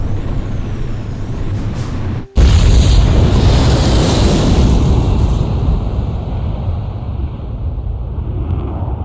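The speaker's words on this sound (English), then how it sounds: "Mass driver hit by cruise missile." A cruise missile strikes a mass driver in the Ace Combat 5 video game, a loud sudden blast after a brief cut, followed by a heavy rumbling roar that slowly fades over several seconds.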